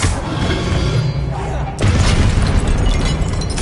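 A Confringo blasting spell explodes in Hogwarts Legacy, a loud, dense roaring burst that surges up midway and rumbles on to the end, with a voice present near the blast.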